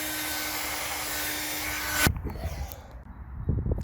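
A cordless drill bores a small hole in a plastic case inside a BMW 5 Series F M5, a steady high whine for about two seconds that cuts off abruptly, followed by faint handling clatter.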